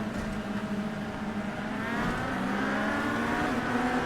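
A modified Legends race car accelerates on the South Boston track, its engine a steady droning roar that climbs in pitch as the throttle opens, heard continuously from inside or close by with no speech.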